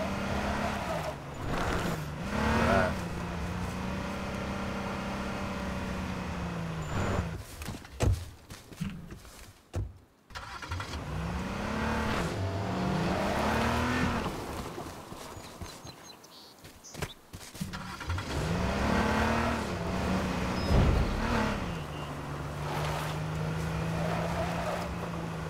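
Cars speed past in the video game H1Z1, their engines rising and falling in pitch as they pass, with several loud passes over about 25 seconds and thumps and game noise between them.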